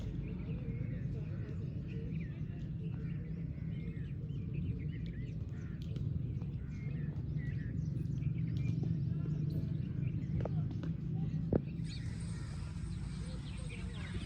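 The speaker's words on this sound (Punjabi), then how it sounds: "ਫਾਖਤਾ ਦੀ ਆਵਾਜ਼ ਕੋਇਲ ਦੀ ਆਵਾਜ਼ ਕਵੇ ਦੀ ਆਵਾਜ਼" A crow caws repeatedly among doves and a cuckoo calling outdoors, moderately distant and fairly faint over a steady low rumble.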